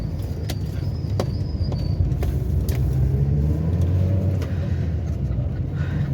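A car drives along a road with a steady, close engine and tyre rumble, occasional light clicks and thumps breaking through the even drone.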